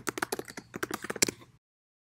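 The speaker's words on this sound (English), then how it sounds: "Actual audio of me typing" Rapid, uneven clicking of computer keys for about a second and a half, close and crisp, then silence.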